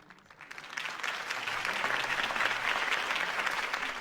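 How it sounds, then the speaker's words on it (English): Steady, dense crowd applause fills a rally scene in the Batman Telltale video game after Harvey Dent's campaign speech, broad and continuous, swelling slightly after a quiet start. "If only Mr. Wayne, my campaign's largest backer, could have heard that applause"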